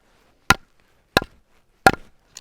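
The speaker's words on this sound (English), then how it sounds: "kind of a dull sound when you have a wetter wood" Freshly cut, somewhat wet hardwood firewood is knocked together, giving four short, dull, woody thunks spaced roughly evenly apart, the last one softer, with silence between the strikes.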